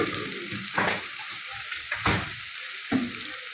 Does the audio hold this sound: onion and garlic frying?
yes